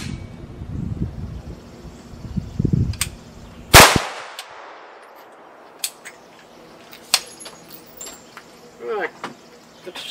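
A single loud, close gunshot from a CMMG 5.7 firearm cracks sharply, followed by quieter clinks and handling noises, with voices talking before the shot.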